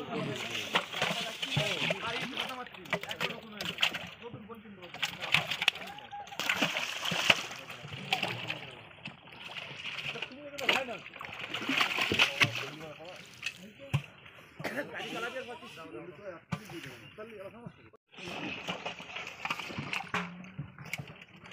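Fish poured from containers into a village pond, water splashing and sloshing repeatedly close by, mixed with people talking and calling out throughout.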